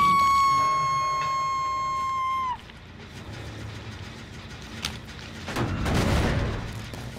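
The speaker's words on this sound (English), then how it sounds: "Why are there so many explosions going off in the distance?" Distant explosions in the Dead by Daylight video game, a few low rumbling booms, one sharp burst and then a swelling blast, following a fading tonal chime.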